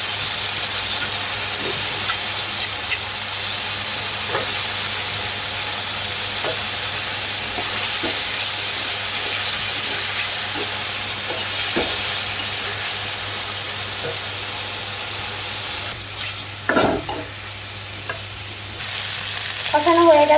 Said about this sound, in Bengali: এখন আলুটা দিয়ে একটু কষিয়ে নেব।